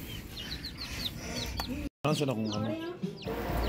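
Newly hatched chicks peep in repeated high, bright chirps throughout, with a short silent break midway and a low background hum; no speech is heard.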